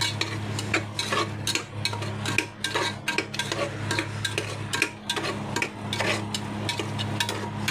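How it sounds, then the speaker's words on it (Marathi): Steady clinking and scraping of a spoon stirring tomato paste into frying onions in a pan, repeated rhythmic strokes over a constant low hum, close by with no talking. "आता आपण याच्यात टमाटरची पेस्ट टाकू, जे आपण मिक्सरमध्ये बारीक केली"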